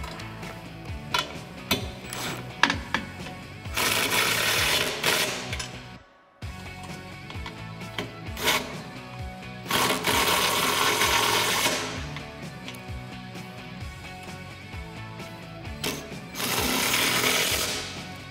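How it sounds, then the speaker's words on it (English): An impact gun tightens front bumper bolts on a Jeep Wrangler JL during a Barricade Trekker bumper install, giving several loud buzzing bursts separated by pauses, with clicks and shop clatter between them, close by. "I'm going to take our 13 millimeter wrench and our gun, and we're going to start tightening them up."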